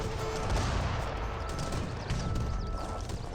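Cannon fire from Great Bombards and Culverins in an Age of Empires 3 battle, a dense, continuous roar of overlapping booms and gunfire that stays loud throughout, with no talking.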